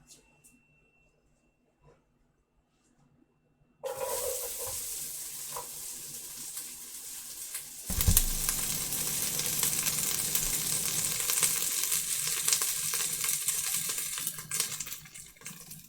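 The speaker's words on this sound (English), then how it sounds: "Add our onions in." Onions hit a hot pan while meatballs and sauce are cooked, and a loud, steady sizzle of frying jumps in and holds, with clatter around it. Before that, quiet kitchen noise with faint tap water.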